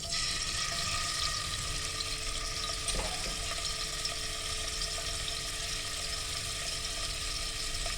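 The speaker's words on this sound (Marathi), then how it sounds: "पनीर फ्राय करून घ्यायचं" Paneer frying in hot oil for vegetable pulao, a steady, fairly loud crackling sizzle that continues evenly throughout with a faint tap partway.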